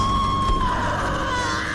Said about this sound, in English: That scream is terrifying.